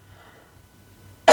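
A single sharp cough from a person bursts out loudly at the very end after a near-silent lull with faint low hum.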